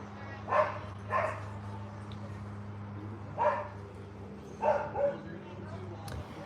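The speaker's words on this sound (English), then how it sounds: "Their dog is louder than the mower." A dog barks in short bursts, about five times at irregular intervals, moderately loud over a steady lawn mower drone outdoors.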